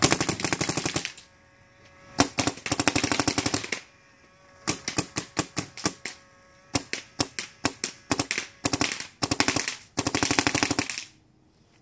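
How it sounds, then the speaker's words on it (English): Dye DM14 and DM13 paintball guns firing in fast bursts, loud close-up strings of sharp rapid pops separated by brief pauses, some bursts long and continuous, others clipped into short groups of shots. "We're gonna try to see some of the barrel rise of the gun and as we shoot it."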